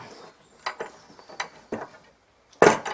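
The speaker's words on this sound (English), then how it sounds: "I'll just put the one clamp on the middle" A wooden clamp is tightened down on the middle of a glued fretwork panel, giving a few short ratcheting creaks and knocks spaced out, then a louder close burst of rubbing and clatter at the end.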